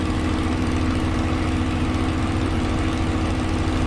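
Supermarine Spitfire engine in Microsoft Flight Simulator during a night climb, a loud, steady, droning roar with an even rumbling pulse, held constant throughout with no voice over it.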